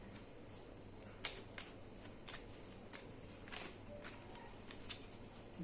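Angel cards being shuffled by hand, a series of soft rhythmic riffling bursts roughly every half second, close and quiet against faint background hum.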